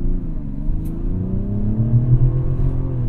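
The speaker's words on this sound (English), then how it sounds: "Was that like some engine blip up there? Hanging up at red line." Inline-six engine of a 2024 Mazda CX-90 revving up and hanging at redline in sport mode, heard from inside the cabin as a steady, loud drone with a rising harmonic whine.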